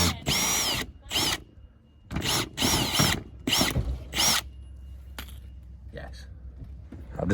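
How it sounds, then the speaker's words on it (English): A drill fitted with a hole saw whirs in several short bursts with pauses between, close and fairly loud, used for cutting a hole for a car reversing sensor. "this is the hole saw that comes with it"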